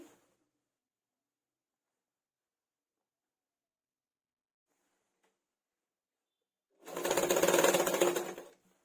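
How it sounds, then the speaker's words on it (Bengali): A sewing machine double-stitches a bolster pillow cover made from old fabric, a single loud burst of rapid whirring stitching close by for under two seconds after a long silence. "আর একবার আমি ডবল করে সেলাইটা দিয়ে দিচ্ছি"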